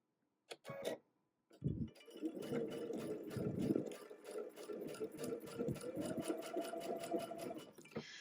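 A sewing machine chain-pieces quilt fabric for a butterfly block, a steady run of needle strokes after a couple of short bursts, close and continuous with light ticking.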